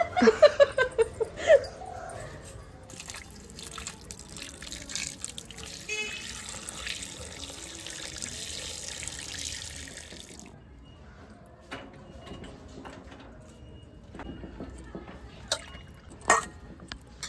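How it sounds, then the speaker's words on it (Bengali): Tuna fish being washed under a running kitchen tap, a steady rush of water with splashing and handling, a few sharp knocks at the start, and the flow stopping near the middle, followed by drips and clatter. "আমি মাছটা ধুই, আমার ধুতে ইচ্ছা করছে।"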